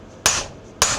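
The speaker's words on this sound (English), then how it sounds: "hit the socket with a hammer" Two sharp metallic hammer strikes on a socket seated over a nut on a John Deere LA125 lawn tractor, spaced about half a second apart, each ringing briefly before fading.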